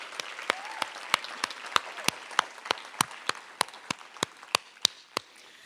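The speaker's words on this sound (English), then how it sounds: "Can we give the Prof a round of applause again?" Applause from an audience at an evening poetry festival event, a steady crowd clapping with sharp distinct claps standing out over a dense wash of hands, moderately loud and sustained throughout.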